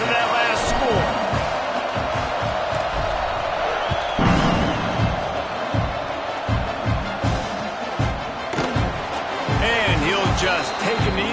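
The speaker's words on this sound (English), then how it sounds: "this crowd is buzzing after that last score" At a football game with Notre Dame, a large stadium crowd keeps up a loud, steady roar and buzz after a score, with repeated thumping impacts and occasional cheers rising through it as a voice talks over the top.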